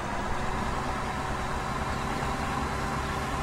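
Tractor engine in the video game Farming Simulator 17, a steady low idling drone that runs evenly and loudly throughout without a break, with no voices over it.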